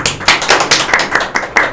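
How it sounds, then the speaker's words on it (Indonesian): Hands clap together in a quick, even rhythm on an Indonesian automotive talk show, about eight sharp, loud claps in under two seconds, close by, with no speech. "Kita tepuk tangan untuk Azi dan Padli."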